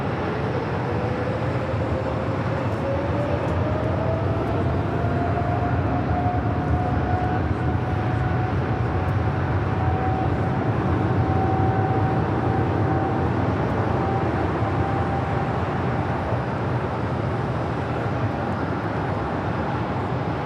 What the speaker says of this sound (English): It's a 777 freighter.